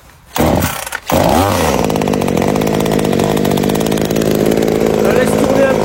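A Scheppach CSP2540 pole pruner chainsaw engine starts with a couple of coughs, then runs steadily at a loud, buzzing idle just above tickover, close by, with no speech over it.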